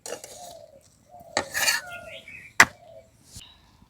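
A thin hand-rolled roti is flipped in a frying pan, giving a few short metallic scrapes and clinks of utensil on pan with quiet gaps between, close and distinct.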